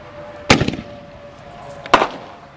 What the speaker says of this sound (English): canister break.